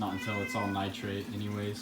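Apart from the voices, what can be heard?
cat meowing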